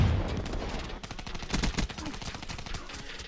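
Shotgun fire in the video game Black Ops 3, a series of loud, sharp blasts with other gunfire mixed in, clustered densely around the middle of the clip and coming back sporadically afterward.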